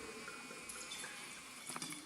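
Red Amarone wine of 16.5% strength, big, dark and inky, being poured into a glass at the Zenato Cellars in Italy: a quiet, continuous trickling splash that briefly swells near the end, with no voices.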